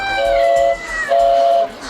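A Chinese pigeon whistle of the kind sold at a Beijing bird market, sounding two sustained, reedy whistle tones of about half a second each, separated by a short gap, loud and clear with a faint background.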